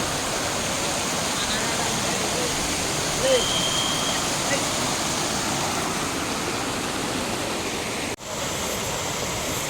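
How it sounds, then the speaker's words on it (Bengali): Water pouring over the Devkund falls in Odisha makes a continuous, close rushing roar that holds steady throughout, with a brief dip in level near the end. "এইভাবেই ঝর্ণা চলে যাচ্ছে"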